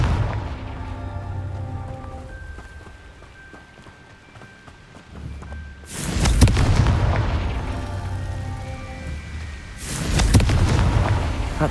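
A Confringo fire spell goes off in the Hogwarts Legacy video game, two loud booming blasts a few seconds apart over a humming game soundtrack.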